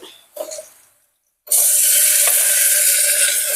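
Tomatoes for an egg curry fry in a pan, a brief scrape and pause giving way to a sudden loud, steady hissing sizzle that holds close and constant.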